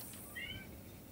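A cat meows once, brief and faint, in the video game Resident Evil 7, over a low quiet ambient background with no talking.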